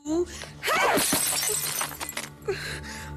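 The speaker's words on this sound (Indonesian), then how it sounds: "Ruby yang terbakar api cemburu malah melempar sebotol minuman ke arah Saru." A bottle of drink hurled in a fit of jealousy smashes loudly, a sharp shattering burst followed by scattering glass fragments, set against dramatic film music with a voice present.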